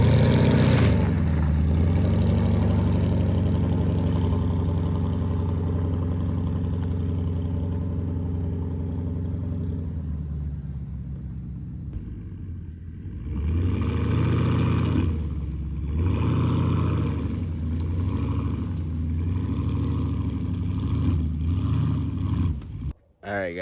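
A Porsche Cayenne on 21-inch summer tires straining while pulling tree stumps, its engine droning steadily then rising in revving surges, with someone talking over it.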